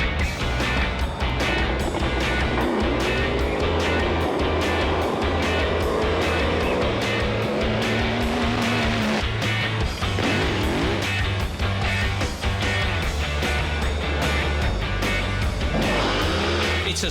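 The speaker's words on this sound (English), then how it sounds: "Enormous methanol-fueled engines mean they can accelerate to huge speeds" Enormous methanol-fueled drag boat engines roar at full throttle as the boats accelerate across the water, a loud, continuous, dense engine blare with rising pitch sweeps, dominating throughout with no talk.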